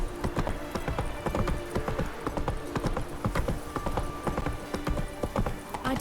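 Roach the horse gallops in The Witcher 3, with rapid, rhythmic clip-clop hoofbeats close and steady throughout, a brief whinny mixed in, and no speech.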